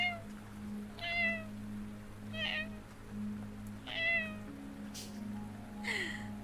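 A voice mimics a cute street cat's meow, giving several soft, high-pitched mews spaced about a second and a half apart, faint and alone over a low steady hum.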